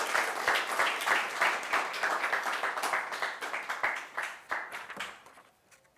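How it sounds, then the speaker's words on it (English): An audience applauds a high school poetry winner at a New York Browning Society awards event, a dense, steady burst of clapping from a room full of people that thins out and fades near the end. "let's give a round of applause for Julian R. Navarro from Xavier School"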